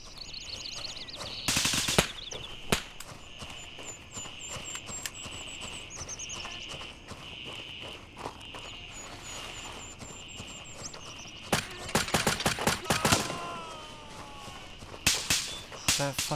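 SKS or AK rifle fire in the Gray Zone Warfare video game, loud sharp cracks in a few bursts with a steady electronic tone running between them, close and without voices.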